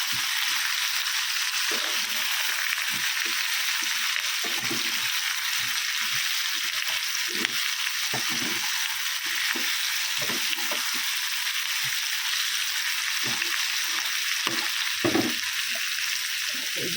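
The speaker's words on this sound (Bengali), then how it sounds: "তো সর্ষে কষে দিয়েছি, জিরে গুঁড়ো আর হলুদ গুঁড়ো।" Mustard being fried with cumin powder and turmeric powder in hot oil, a steady, loud sizzle throughout with occasional soft stirring scrapes and clatters.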